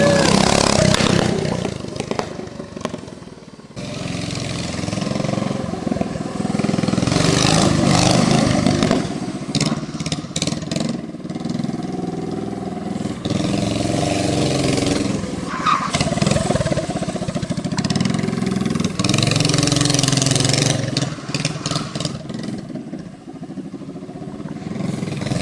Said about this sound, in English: This is no ordinary discount shop mini bike.